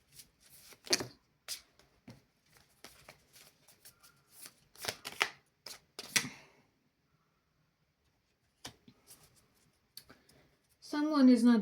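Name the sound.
shuffling and pulling tarot cards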